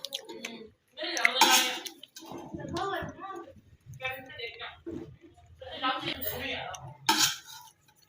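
A spoon scoops through cooked potato pulao rice in a pot, with a few sharp metallic clinks and soft scraping mixed under someone talking.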